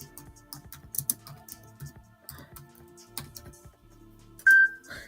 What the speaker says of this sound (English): I'm just typing on YouTube